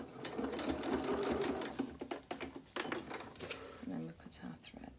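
A domestic sewing machine runs a short reverse stitch through shirt fabric, its motor whirring in a steady rapid buzz close by, with a person talking over and around it.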